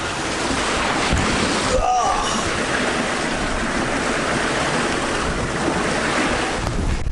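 A sailboat pushes through waves at about 7 knots on the way out to Kvitsoy Island, producing a loud, steady rush of water and wind noise with no break.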